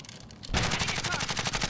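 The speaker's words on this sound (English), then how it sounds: "Shoot that vehicle. Make it blow up." Rapid automatic gunfire rattles in Call of Duty Warzone as players shoot at a vehicle, a sustained burst of evenly spaced shots that starts abruptly and stays loud.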